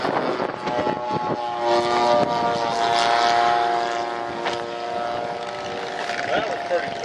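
A P-51 Mustang warbird propeller plane flies overhead at an air show, a loud, steady droning engine hum with a rising and falling tone, with people talking nearby.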